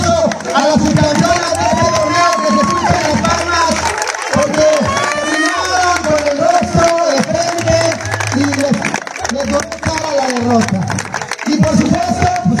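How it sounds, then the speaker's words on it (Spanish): A loud crowd at a women's football tournament awards ceremony cheers, shouts and claps continuously, lively and close, with voices rising and falling throughout. "vamos a dar un fuerte aplauso a la subcampeona"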